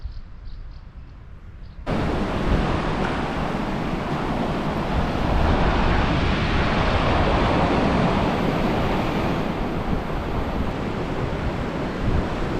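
Baltic Sea waves wash onto the Polish shore between Świnoujście and Kołobrzeg in a steady, fairly loud roar, mixed with gusting wind.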